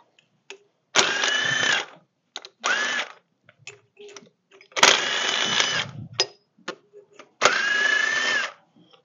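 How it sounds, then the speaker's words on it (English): A power drill with a small bit whines in several bursts of a second or so each while drilling a pilot hole during engine work, stopping and starting with short clicks and pauses between runs. "we usually use a little drill bit and make a pallet hole in it"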